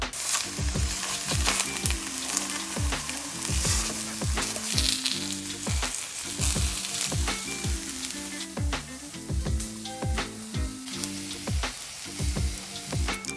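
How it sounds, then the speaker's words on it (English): Aubergine wedges char in a hot pan with a loud, continuous sizzle, heard over rhythmic background music with a steady beat. No one speaks. "And then we're gonna just kind of char them on each side."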